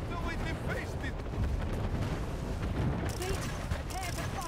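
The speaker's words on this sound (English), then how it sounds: "Firing the cannons. Pretty much all on the same spot," Naval cannons fire in the video game Anno 1800, a dense, continuous rumble of booming artillery and blasts layered over a constant roar of battle noise, with no speech.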